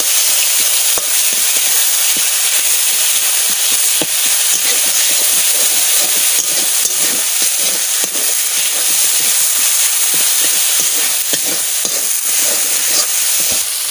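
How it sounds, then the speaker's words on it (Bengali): Spices and chilli tipped into hot oil for a spinach and dal dish hiss with a steady, close sizzle that carries on without a break, with light stirring clicks on top and nobody talking. "আমি ওই মশলাটা তেলে পরে দিয়ে দিচ্ছি।"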